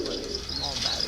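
Pigeons coo softly at a bird auction, with low, rolling calls and some chirps over a busy background.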